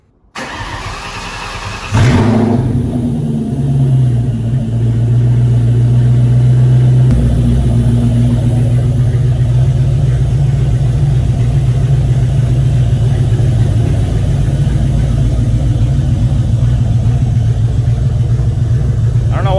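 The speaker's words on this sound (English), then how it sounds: "start up the car, see what it sounds like without the mufflers on it" A Mustang Bullitt engine cranks and fires up with its mufflers removed, then settles into a loud, deep, rumbling idle with a choppy, uneven lope that continues steadily throughout.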